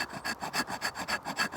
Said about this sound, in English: let's see how the 90-degree spine goes when it comes to scraping